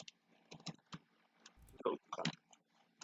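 Quiet keystrokes and clicks on a computer keyboard while entering network configuration commands, a sparse, irregular run of soft taps close by, with someone speaking briefly among them.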